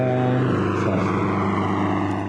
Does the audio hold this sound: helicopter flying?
yes